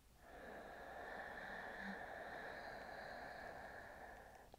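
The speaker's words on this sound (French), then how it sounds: "Toujours avec la respiration Ujjayi de l'océan, expire par le nez et écoute ta propre respiration." A single slow ujjayi ocean-style exhale through the nose, with the throat constricted, makes a soft, steady, hissing breath that swells and fades over about four seconds in a quiet room.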